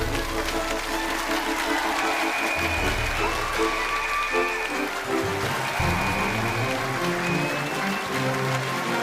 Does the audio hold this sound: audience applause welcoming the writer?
yes